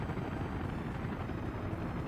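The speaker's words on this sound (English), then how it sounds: "There's a lot of helicopters that are doing a heck of a lot of things here." Helicopters in the Workers and Resources: Soviet Republic city-building game give off a steady, dense rotor rumble and whir. It holds at an even level for the whole stretch, with no voices over it.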